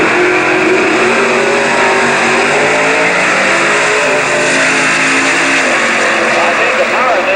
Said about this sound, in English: I think the power of this one is a small block Chevrolet, an aluminum Donovan engine.